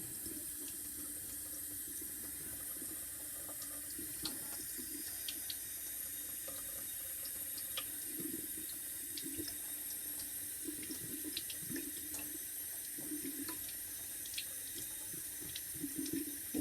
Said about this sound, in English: under the water, just letting the very, very gentle friction of my finger and the water start to wash off the remaining calcium